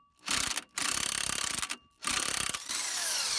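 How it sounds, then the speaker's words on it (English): A wrench works a tight nut off the CV axle of a 2001-2007 Dodge Grand Caravan, giving close, loud bursts of rapid ratcheting clicks in three runs separated by short pauses. "Next, we're going to take this nut off, and you might have to put another wrench on the other side."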